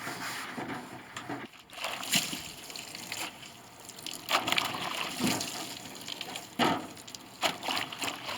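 Warm water splashing and trickling over old wood parts from an 1881 Steinway Model A piano during a recrown, steady running water broken by irregular louder gushes and knocks, with no talking.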